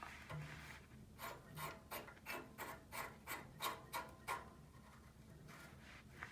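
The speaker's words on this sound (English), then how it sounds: "and tighten that down with a wrench" A wrench tightens the fitting on the main gas line of a gas water heater during burner replacement, giving a run of about a dozen quick rasping, ratcheting strokes in steady rhythm, close and fairly quiet, with no talking.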